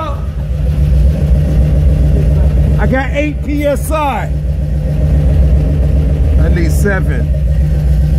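A hot Stage-1 Buick 455 Regal-T engine with a defective fuel pressure regulator idles loudly and steadily with a deep, even rumble, while someone talks briefly over it.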